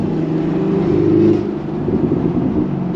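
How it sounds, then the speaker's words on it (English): The supercharged engine of a Chevrolet Camaro ZL1 1LE accelerates, heard from inside as a loud, rising rumble that peaks and then settles back. "And y'all hear that supercharger."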